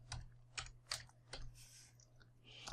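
Computer keyboard typing, a few distinct key clicks and short bursts of taps spaced irregularly, quiet and close with a faint steady hum underneath.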